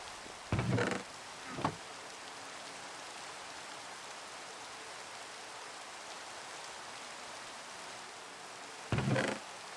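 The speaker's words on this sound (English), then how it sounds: "It's just raining." Steady rain hiss in the game Nomifactory fills the whole clip, broken by a few brief louder knocks or thumps near the start and again near the end.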